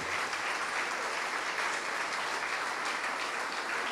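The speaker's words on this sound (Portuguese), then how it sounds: "E vamos aplaudir ao Senhor Jesus por cada vida que está chegando." Applause from a church congregation during a service, a steady dense wash of many hands clapping that holds evenly for the whole stretch, with no talk on top.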